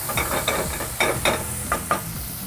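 Chopped shallots tipped into a hot pot of duck and root vegetables, sizzling steadily with a few louder bursts of frying and stirring, close and alone with no talk.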